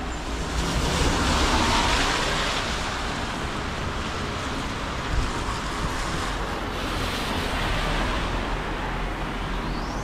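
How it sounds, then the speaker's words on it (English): Heavy rain pours down in Barbados: a dense, steady hiss and roar that fills the whole stretch with no breaks, loud and close, with no one speaking. "Damn, it's pouring over here."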